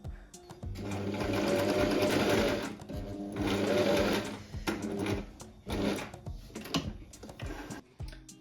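A sewing machine stitches dress panels in close rhythmic bursts of rapid clatter, two long runs followed by shorter starts and stops, with no voice over it.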